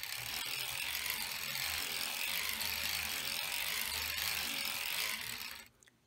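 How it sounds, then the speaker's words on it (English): Circular sock knitting machine being cranked slowly through rows for knee-high socks, giving a steady continuous mechanical clicking and whirring with a faint ratcheting texture, close and even, stopping abruptly near the end. "And I'm currently about to crank 10 rows."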